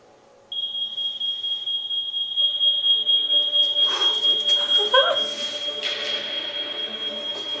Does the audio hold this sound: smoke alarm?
yes